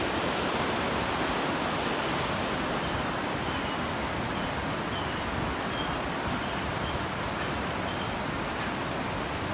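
Rushing water of a stream flowing below, near a cave in Manjushree park, Kirtipur: a steady, loud, broadband roar filling the whole stretch with no pauses or voices.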